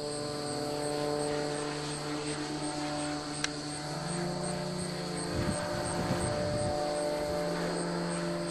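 Electric Extreme Flight 88-inch Edge 540T model plane flying outdoors, a steady high-pitched motor and propeller drone that holds at a fairly constant distance, with faint wind bumps partway through.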